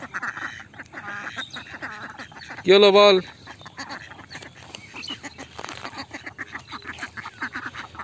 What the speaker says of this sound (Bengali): এই দেখো আমাদের হাঁসেদের দল সব